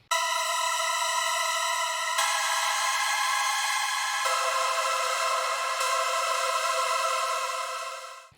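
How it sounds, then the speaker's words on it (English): Bright, buzzy synthesizer chords hold long sustained tones, shifting to new chords every couple of seconds before fading out at the end. "And then I got this new synth right here"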